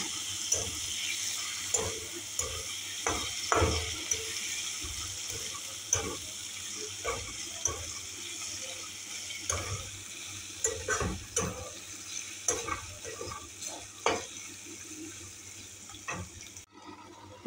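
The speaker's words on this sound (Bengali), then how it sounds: "চিকেন দিয়ে মশলার সাথে ভালো করে কষিয়ে নেব।" Chicken sautéed with spices in a pan for a chicken and young jackfruit curry, with a steady close sizzle under repeated clattering stirs and scrapes of the spoon, no talking.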